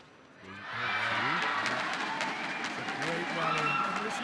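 Crowd applause and cheering break out after a long rally at a women's singles badminton match, swelling loud and steady across the arena while a commentator talks over it.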